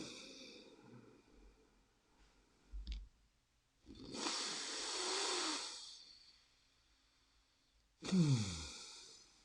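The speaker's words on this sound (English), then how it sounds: "take a deep breath" Slow deep breathing close to the microphone, with a quiet opening, a small click, a long drawn breath of about two seconds, then another strong breath near the end.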